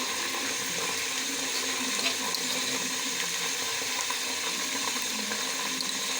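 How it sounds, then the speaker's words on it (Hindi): Garlic and ginger paste sizzling in a pan with golden fried onions and a splash of water while cooking rice with peas, a constant dense hiss and crackle of frying throughout. "अब हम इसके अंदर लहसुन अदरक का पेस्ट ऐड कर लेते हैं।"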